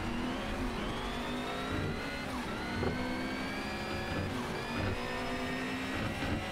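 An Alfa Romeo 8C Competizione engine in Need for Speed Shift 2 drones steadily at high revs, its pitch rising and shifting slightly with automatic gear changes, continuous and fairly loud throughout.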